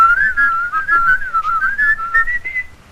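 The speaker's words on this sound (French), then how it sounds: "je siffle, hein" Someone whistles a wavering, continuous tune nearby, bright and clear, with brief pauses between phrases.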